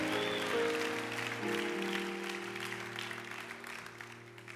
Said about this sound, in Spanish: Va a aplaudir, aplaude bien.